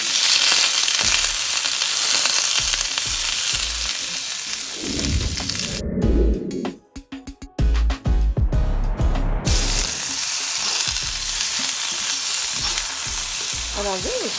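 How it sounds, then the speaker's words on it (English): Green beans sautéing with Italian seasoning in a home kitchen pan, a steady loud sizzle with repeated stirring scrapes, broken by a brief clattering patch of utensil and pan knocks midway before the frying hiss resumes. "I'm just going to saute them up"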